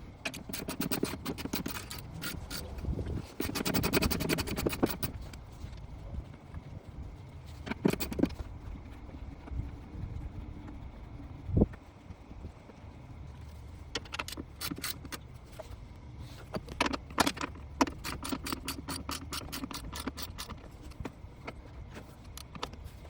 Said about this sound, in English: I'm gonna take this little cross beam out so that we can easily move that lid up. And in order to do that, you need a 10mm socket